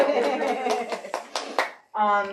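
Scattered clapping from the audience at a poetry reading sounds under a close, clear speaking voice, with a handful of sharp claps breaking through before the talk takes over.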